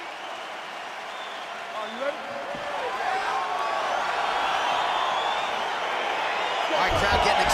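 Arena crowd in the UFC 4 video game cheering and applauding ahead of a light heavyweight bout, a broad steady roar that swells louder partway through, with an announcer's voice over it.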